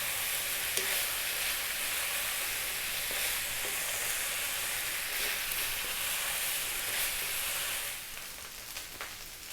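Pork fried rice sizzles and crackles steadily in a very hot pan, a dense continuous frying hiss with occasional stirring scrapes, easing slightly near the end.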